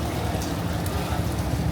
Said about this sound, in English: Shooting the rain.